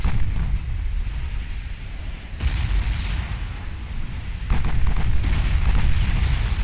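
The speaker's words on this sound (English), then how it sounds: "the Danae here is mainly being fired at by the secondary guns on the enemy battleship" Battleship guns firing in a naval engagement in Ultimate Admiral Dreadnoughts, with main and secondary batteries in action. Heavy, rumbling salvos roll on continuously, and louder volleys break in partway through, with no voices.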